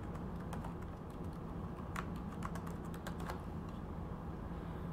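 Keys clatter on a computer keyboard as a name is typed, a quick irregular run of light clicks close by over a steady background hum.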